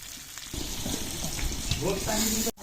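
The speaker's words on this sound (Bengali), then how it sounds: "টমেটো কুচি দিয়ে একসাথে মশলাটা কষিয়ে নেব" Spice paste with chopped tomato and turmeric sizzles loudly in hot oil, a continuous frying hiss with stirring scrapes and a brief sharp knock near the end.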